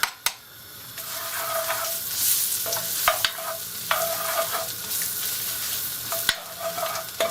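Butter sizzles in a Dutch oven with ginger, bay leaves and garlic, a steady close frying hiss broken by scraping stirs and clinks of the utensil against the pot, with no talk.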